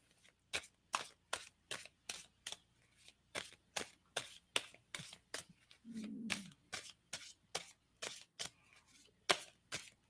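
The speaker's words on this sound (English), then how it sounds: "And so I'm going to stop shuffling." A deck of tarot cards is shuffled, sharp crisp riffling bursts repeating in a steady rhythm close up, with a brief low murmur midway.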